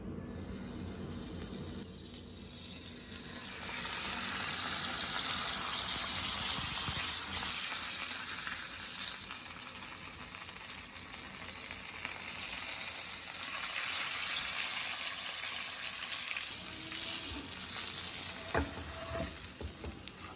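Masala-coated fish sizzling in a frying pan, a loud continuous crackle of hot oil that swells and holds steady, with a brief clink near the end.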